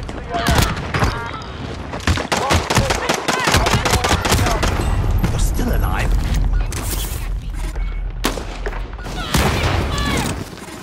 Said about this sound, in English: Bastards are shooting at me.